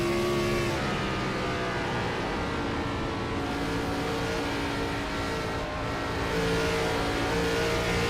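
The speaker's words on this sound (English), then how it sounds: "Here, Caffrey feather the throttle through the corner. It's pretty much full send here." A race car engine at Rockingham drones steadily and loudly at high revs through a corner, with a sustained roar and a brief throttle dip midway. There is no talk.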